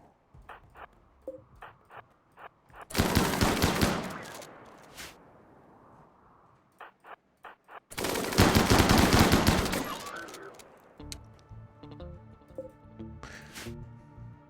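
Enemy gunfire in RimWorld, with two long, loud volleys of rapid shots separated by quieter single pops and clicks, then a stuttering tail of lighter fire.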